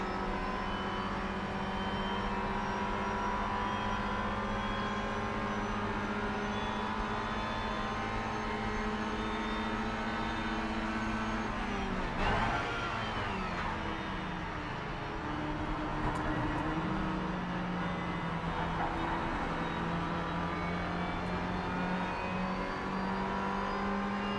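Race cars in Project Cars 3 roar steadily around a circuit, engine notes whining and shifting in pitch as one car passes by midway, continuous and unbroken with no talk.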